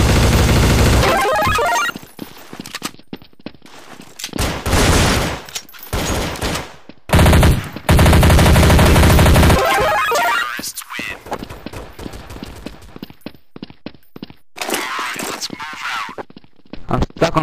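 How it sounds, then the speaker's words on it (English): Gunfire in the video game Counter-Strike: Source, gungame mode: loud bursts of rapid shots and full-auto fire come and go in clusters with short gaps, with voices talking over parts of the action. "yeah, I'm gonna just shoot you."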